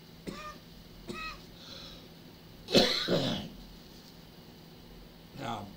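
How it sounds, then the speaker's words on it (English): A couple of short throaty bursts, then a harsh, louder cough, followed later by another; quiet room between them. "I feel like I'm going to cough again."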